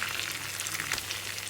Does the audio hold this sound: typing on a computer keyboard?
no